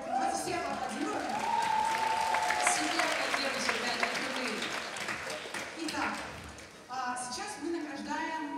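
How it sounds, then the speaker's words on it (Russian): Applause breaks out among the audience at a festival awards and closing ceremony, a thick patter of clapping mixed with voices and tonal sounds that fades, then swells again near the end. "давайте все аплодируем"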